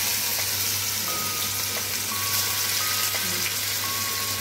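Bullet kababs frying in oil on low heat, a dense, even hiss of sizzling oil that stays constant and close throughout, with faint background tones and no talk.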